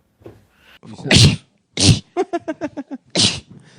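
Two or three loud, sharp sneezes close by, separated by breathy inhales and a quick series of short catching gasps.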